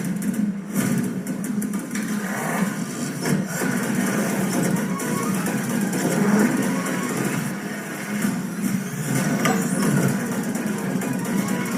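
A Mahindra 585 DI tractor engine idles nearby with a loud, steady diesel hum and an even chug that holds for the whole stretch, with no talking.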